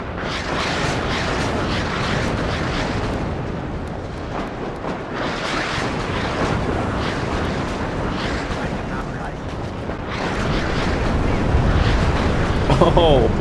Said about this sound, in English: Absolutely annihilated them with that artillery strike